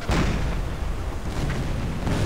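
A shell explodes against a wooden ship in the submarine video game Silent Hunter 4: a loud booming blast, then rumbling crackles and a second burst as debris and fire follow.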